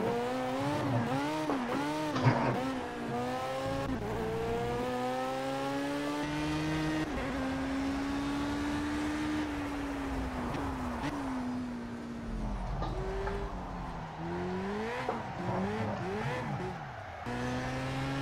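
Audi race car in the Project Cars video game, its engine revving and sweeping through rising and falling pitch with bursts of tire squeal, heard continuously from outside the car.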